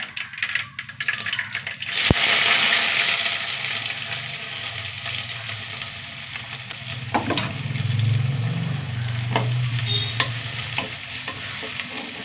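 Steady frying sizzle of onions in hot oil with popped mustard seeds, with a loud burst as they hit the pan and occasional stirring clinks, no voices.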